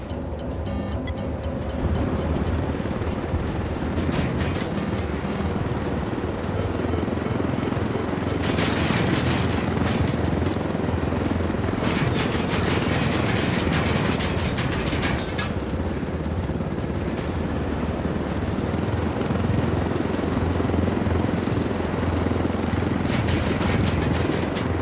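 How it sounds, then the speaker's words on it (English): Helicopters in the Ghost Recon Wildlands video game, a steady loud rotor drone running throughout with a continuous engine hum and intermittent bursts of crackling game noise layered on top. "Let's take these choppers out."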